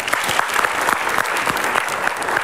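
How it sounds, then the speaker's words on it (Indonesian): A studio audience on a television talk show claps together in a dense, sustained round of applause with scattered sharper hand claps, close and full, with no talking. "Yuk tepuk tangan sama-sama."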